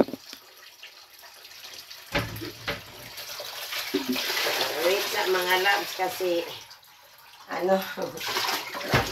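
Water runs from a tap, splashing and gurgling as it fills containers, with a person talking over it at the start and end.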